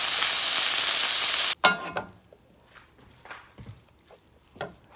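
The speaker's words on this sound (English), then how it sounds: "saute it down a little" Kale sautéing in a pan gives a loud, steady sizzle for about a second and a half. It then drops to quieter, scattered scrapes and taps of stirring.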